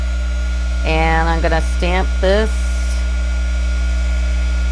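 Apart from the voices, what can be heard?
heat gun running while embossing a card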